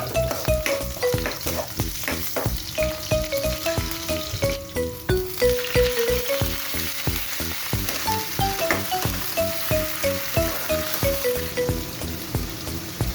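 Shrimp sautéing in oil in a pan, a steady sizzle broken by frequent scraping stirs, with a pitched background melody running throughout.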